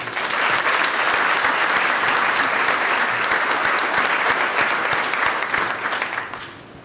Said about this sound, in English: let's give our staff a big round of applause